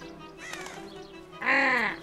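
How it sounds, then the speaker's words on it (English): A crow caws in the video game Shadow of the Tomb Raider, two harsh close calls, the second louder and longer, over a faint ambient hum. "Get out of the way, crow."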